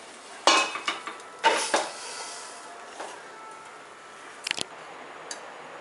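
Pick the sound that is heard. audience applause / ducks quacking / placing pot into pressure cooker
placing pot into pressure cooker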